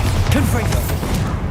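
Bombarda and Confringo spells blasting in Hogwarts Legacy, a dense run of loud booming bursts and crackling impacts with voice-like shouts mixed in, continuous and close throughout.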